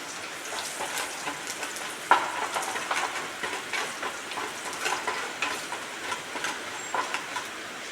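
Mustard seeds and curry leaves crackle and splutter in hot oil with a steady frying sizzle and scattered sharp pops, close and clear, with no talking.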